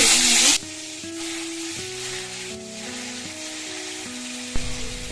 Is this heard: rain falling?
no